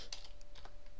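Quick, light keystrokes tap out a command on a computer keyboard, a close, rapid run of clicks lasting about a second with no talk.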